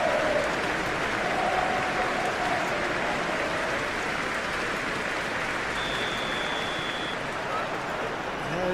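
A capacity stadium crowd at a West Ham vs Manchester United Premier League match in the PES 21 video game, applauding and roaring in a loud, steady, unbroken wash throughout.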